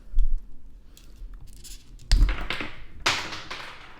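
Plastic tapping and clicking as the head of a 6-inch DC Multiverse Heat Vision Superman action figure is pulled off, with a few sharp close knocks and handling rattles, no speech.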